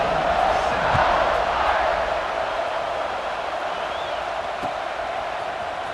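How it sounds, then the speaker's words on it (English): A stadium crowd roars in EA Sports College Football 26 as the teams line up for the kickoff. The broad, steady wall of noise from the stands swells slightly early on and then holds a sustained level throughout. "They're set to kick it off, and this crowd now ready to get behind them."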